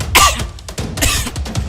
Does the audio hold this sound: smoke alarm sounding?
no